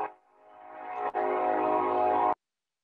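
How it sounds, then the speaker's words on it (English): Train horn blaring as a train passes, a loud sustained tone that swells, breaks briefly, then holds steady before cutting off abruptly. "Here comes the train."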